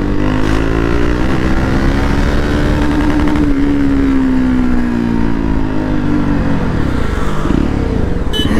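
A motorbike engine runs loudly and close in a steady drone, its pitch climbing and then sliding as it rides away, with a few knocks and some wind near the end.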